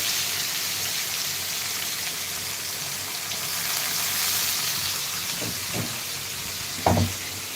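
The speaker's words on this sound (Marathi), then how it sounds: "तेलामध्ये जिरे मोहरी लसूण एक हिरवी मिरची कट करून आणि थोडीशी हळद आणि हिंग टाकलेलं आहे" Cumin, mustard seeds, garlic and a cut green chili with turmeric and asafoetida sizzle steadily in hot oil for a tempering, a continuous close crackling hiss with a few louder pops near the end.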